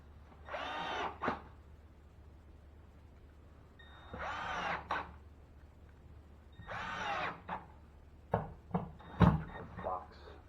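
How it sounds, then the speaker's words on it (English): Power drill driving screws into sheetrock during water-damage wall repair, several short whirring bursts a few seconds apart, moderately close, with scattered knocks and handling noises in between. "Plenty of screws in the base area to make it nice and tight."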